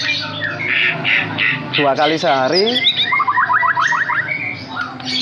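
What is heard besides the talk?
murai batu (white-rumped shama) bird calling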